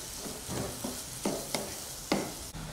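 Vegetables frying in oil in a pan, a steady moderate sizzle broken by several soft stirring scrapes and clinks at irregular intervals.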